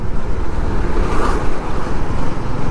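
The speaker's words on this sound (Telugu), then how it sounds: "సముద్రం అలలు చూడు ఎంత పెద్ద పడుతున్నాయో." Big ocean waves crashing on a beach along the Kerala coast near Varkala, a loud continuous roar of surf with a swelling break in the middle, mixed with wind noise.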